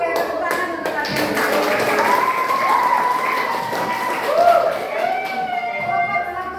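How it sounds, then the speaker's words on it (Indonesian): Students in a classroom clap for their groups, a lively round of applause with rhythmic hand claps, some cheering and shouting voices, fairly close and loud. "tepuk tangan untuk kalian"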